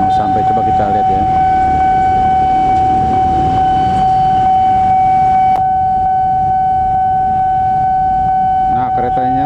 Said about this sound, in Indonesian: ini kayaknya sih kereta Gumarangnya udah mau sampai